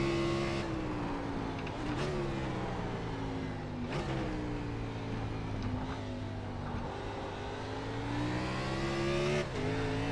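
A B-Fixed race car on the Charlotte Roval circuit in a racing sim runs in second gear at partial throttle, its engine droning loudly and steadily with a few quick shift-like dips and rises.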